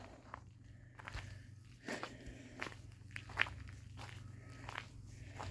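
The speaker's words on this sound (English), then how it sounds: "I like the sound of my feet crunching on gravel" Footsteps crunch on a gravel path in a northern spring garden, a steady walking rhythm of close, crisp crunches with no talking.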